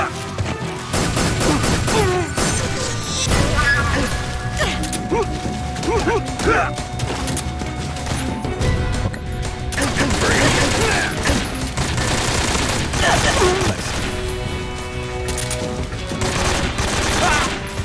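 Enemy soldiers' gunfire in the Metal Gear Solid 3 stealth action game, sustained loud bursts of shots and impacts layered over game music and effects throughout.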